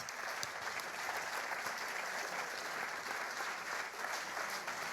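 Steady applause from an audience at an award ceremony, honoring the category winner at the Trophées h'up 2022; dense, even clapping that holds throughout without voices.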